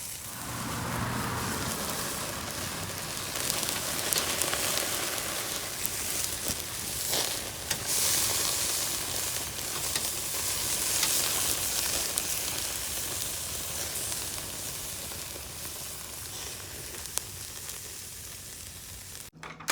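Marinated chicken kabobs sizzle steadily on a grill, a soft continuous hiss and crackle of fat and marinade on hot grates, fairly quiet and unbroken with no one speaking.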